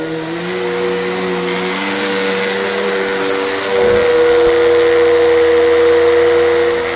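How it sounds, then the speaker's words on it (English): A vacuum cleaner running on carpet drones steadily and loudly throughout, its motor pitch shifting slightly partway through as the load changes, with no voices. "So this is a really good vacuum."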